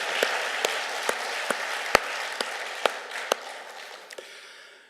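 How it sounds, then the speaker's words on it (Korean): A church congregation applauding during a Sunday service, a soft wash of clapping with several sharper, distinct claps standing out at irregular intervals before it thins near the end. "귀한 사역을 감당하는 주의 종들 큰 박수로 격려해 주시고"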